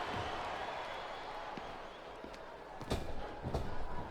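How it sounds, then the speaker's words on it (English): A large capacity crowd roars steadily in the background of WWE SmackDown vs. Raw 2007, with a few thuds and sharp impacts near the end and a commentator talking over it. "It sounds like this capacity crowd has something on their mind."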